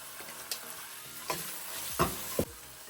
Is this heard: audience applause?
no